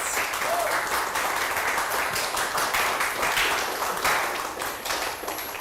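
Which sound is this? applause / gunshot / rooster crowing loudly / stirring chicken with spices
applause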